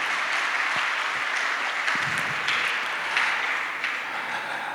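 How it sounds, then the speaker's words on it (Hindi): Sustained applause from an audience at a Sanskrit award ceremony, a dense, steady wash of clapping that fills the whole stretch without voices rising above it. "एक बार करतल ध्वनि से जोरदार तालियां बजाकर स्वागत करेंगे।"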